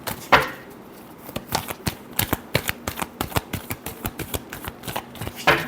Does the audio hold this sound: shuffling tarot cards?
yes